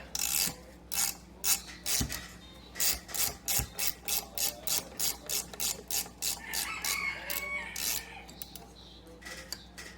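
A wrench loosens a 9/16-inch pivot-point nut on a Singer VS2 sewing machine, giving a long run of quick, evenly spaced ratcheting clicks close by, with brief pauses between bursts.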